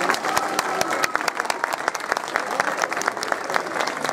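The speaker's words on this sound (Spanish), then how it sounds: "Vamos a comenzar con un fuerte aplauso a sus majestades los Reyes Magos de Oriente." Outdoor crowd applause at the Three Kings parade in Puntallana, La Palma, with sharp dense clapping sustained for several seconds, fairly close, and a little voice underneath.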